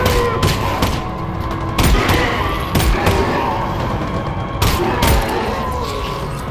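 Repeated gunfire in Half-Life: Alyx played in VR, with sharp shotgun-like blasts at irregular intervals over a dense, noisy game soundscape with thuds and rumble throughout.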